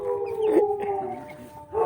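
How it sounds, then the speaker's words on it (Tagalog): A neighbour's dog howls from some distance next door, a sustained wavering howl rising and holding, with a second cry starting at the end; no barking stands out. "ingay yung aso sa kabila"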